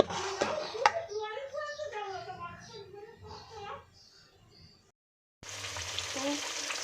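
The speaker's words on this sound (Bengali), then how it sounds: "মাছ ভাজা বসিয়ে দিয়েছি" Fish tails fry in hot oil in a home kitchen: a voice talks over a low sizzle for several seconds, then after a short gap a louder, steady frying hiss comes up close.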